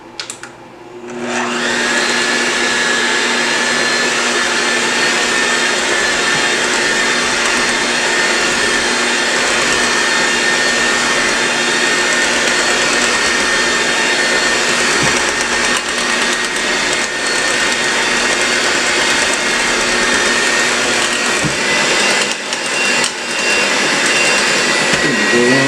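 An electric mixer beats sweet potato pie filling with a loud, constant motor whine that starts abruptly and runs evenly, alone and without speech.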